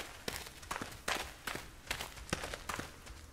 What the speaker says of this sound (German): Ich höre doch Schritte.